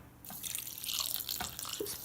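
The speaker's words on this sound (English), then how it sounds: "And for the finishing touch, I'm going to add pretty much all of this chicken broth." Chicken broth is poured from a container over cooked chicken pieces, making a steady liquid splashing stream with a few drips, close and fairly quiet, with no talking.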